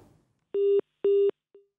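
A disconnected telephone line sounds a cut-off tone: two clean, evenly spaced beeps of equal length, followed by the brief start of a third, against an otherwise silent background.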